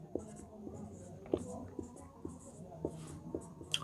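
A pen scratches across paper while a graph is drawn by hand, with soft, close scribbling strokes and small taps under quiet, low speech.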